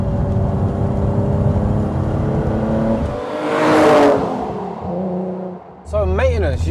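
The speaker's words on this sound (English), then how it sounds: "as soon as you let off the throttle, it just dies, doesn't it? Keeps building power" A roughly 30-year-old BMW M635 CSi Highline pulls hard from inside the cabin, its engine note climbing steadily before a sharp rush as the throttle lifts. Someone speaks briefly at the end.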